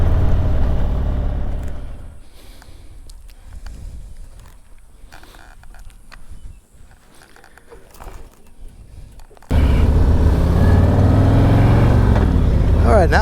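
A motorcycle fitted with a Stage II performance kit accelerates hard, its engine roaring loud and close, dropping back for a stretch mid-run before surging to a full, steady blare again.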